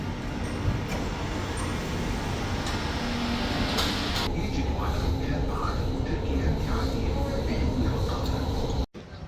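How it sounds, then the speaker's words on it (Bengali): A metro train pulls in at a station platform on the Doha Metro in Qatar, its steady rumble filling the clip until the sliding doors open near the end, with a brief hiss and clunk, under faint background voices. "ট্রেন এসে গেছে, এখন ডোর ওপেন হবে।"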